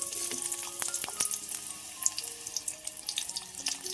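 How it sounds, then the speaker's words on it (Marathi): Onions dropped into hot oil for tempering a Malvani dried-fish curry, a bright crackling sizzle with sharp pops and spatters, close and steady. "तेल जसा गरम झाला तसं आता म्हटला थोडं फोडणीसाठी कांदो टाकूया."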